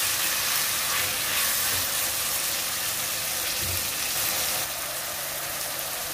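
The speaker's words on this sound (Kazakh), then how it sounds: "Тағы да жақсылап қуырамыз." Onions fry in a pan for a mash pilau (mashkichiri), giving a steady, dense sizzle that runs unbroken throughout at a fairly loud level, with no voices.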